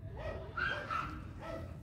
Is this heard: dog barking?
yes